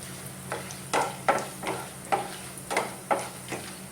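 Whole coriander seeds dry roast in a pan over a medium flame, stirred in a steady run of about eight soft scraping rustles, close and fairly quiet.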